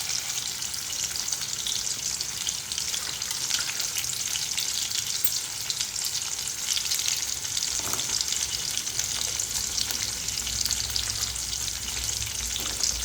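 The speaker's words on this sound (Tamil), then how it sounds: "இப்போ சின்ன வெங்காயமும் பூண்டும் நல்லா வதங்கணும்" Whole peeled shallots and garlic fry in hot oil for a Tamil dry fish curry, giving a continuous dense sizzle and crackle at an even level, with a faint scrape partway through.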